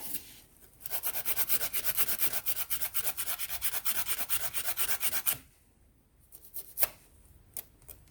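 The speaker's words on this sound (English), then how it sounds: "I'll come in with the nail file and file the tips, any excess ones, and I'll file the sides as well, to shape it up a little bit." A nail file rasps against acrylic polygel nail tips in a fast, steady back-and-forth scratching run lasting several seconds, close and soft, then breaks into a few shorter scattered strokes; no one speaks.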